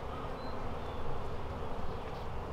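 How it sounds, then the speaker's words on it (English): Honeybees swarm over an open beehive during an inspection, a soft steady buzzing drone heard at low level and without pause. "there's a lot of bees on this one"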